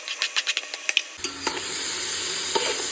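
A spoon taps and scrapes the pan in quick strokes, then onions frying in the pan break into a steady, close sizzle as salt is mixed in. There is no talk.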